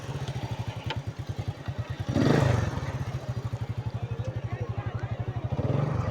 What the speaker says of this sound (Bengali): নতুন মোটর বাইক চালানো